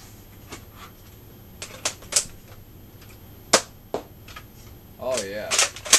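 A Nerf N-Strike Elite Retaliator blaster with a barrel attachment fires elite darts: a few sharp, snappy shots spaced irregularly apart, with a brief voice and handling noise near the end.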